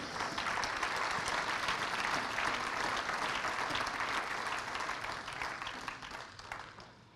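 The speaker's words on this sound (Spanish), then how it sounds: "Denle un aplauso al Señor." Church congregation applauding together at a worship service, a dense sustained wave of clapping that fills the room and slowly fades toward the end.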